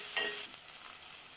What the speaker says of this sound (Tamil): பெரிய வெங்காயம், பெரிய சைஸில் ஒன்று சின்ன சின்னதாக கட் பண்ணி அதையும் இது கூட சேர்த்துக்கலாம். சேர்த்துட்டு நல்லா வதக்கிக்கலாம்.